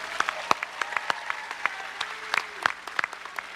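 Scattered audience applause for high school graduates at a commencement ceremony, individual claps distinct and fairly sparse across the hall, moderately faint with a few sharper near claps standing out.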